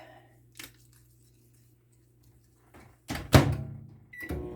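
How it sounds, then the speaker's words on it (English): Quiet kitchen sounds: a soft click, a low microwave oven hum, then a sharp clunk of the microwave door shutting and another muted knock. "So I'm going to return this to the microwave"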